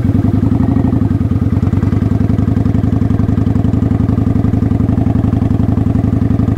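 A motorcycle engine runs steadily at low speed while ridden in slow circles with light throttle and the rear brake held, a continuous near, loud mid-pitched chugging with even pulsing and no voices.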